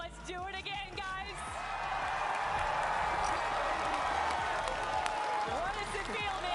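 A stadium or arena crowd applauds and cheers loudly and continuously, with whoops and yells rising over dense clapping that swells and holds steady throughout.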